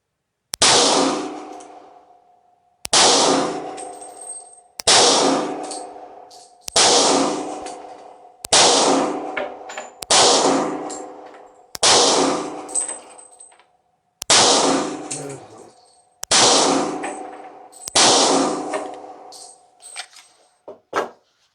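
A CZ 40B pistol fires about ten evenly spaced shots at steel targets, each sharp report followed by a ringing metallic clang that decays over a couple of seconds, loud and close, with no talking.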